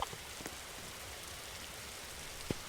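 Steady rain falls in a broad, even hiss, with a couple of sharper drops or taps standing out. It is fairly faint and there are no voices.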